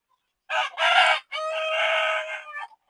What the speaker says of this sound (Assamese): চব মুৰ্গী কণী দিয়াৰ কাৰণে ঘূৰি আছে, কণী দিয়ে আছে 2-4টাকে।